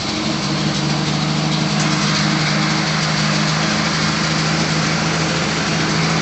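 A 1966 Ford Bronco Roadster's engine idles steadily just after starting, a loud, even close-up rumble with a constant hum and no voices over it.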